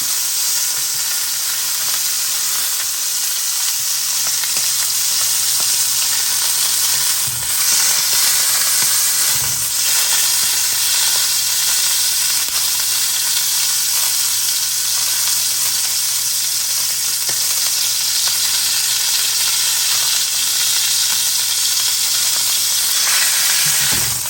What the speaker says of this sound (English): I'm going to finish searing this pork tenderloin